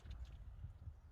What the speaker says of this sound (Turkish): Bayağı bir rüzgar esiyor.